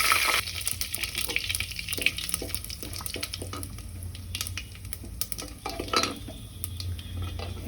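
Dried red chillies, cumin seeds and two bay leaves frying in hot oil, with a steady close sizzle and crackle broken by scraping stirs and clinks of utensils against the pan, no voices.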